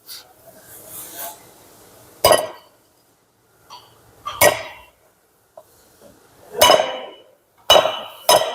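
Metal parts knock and clink during fitting of a new clutch bearing on a Maruti Celerio in a workshop: five sharp, loud impacts spaced a couple of seconds apart, with softer scraping and rubbing between them and no talk.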